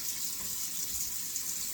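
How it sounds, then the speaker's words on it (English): Cold water running from a tap into a sink during a wet shave, a steady, close, moderately loud rushing splash that flows without pause and without talking. "switching to cold water"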